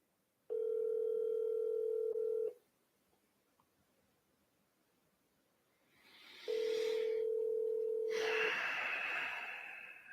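Outgoing telephone call from a cold-calling dialer ringing unanswered: two long electronic ring tones separated by a silent gap, loud and close, with faint breathing and rustling around the second ring.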